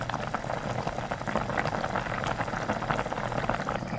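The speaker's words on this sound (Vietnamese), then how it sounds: "Mình cứ để lửa sôi riu riu, như vậy cá sẽ dễ thấm ngon nha các bạn." Vietnamese caramelized fish (cá kho tộ) simmering over low heat in a pot, a constant soft bubbling and gurgling of boiling braising liquid, close and continuous with no voices.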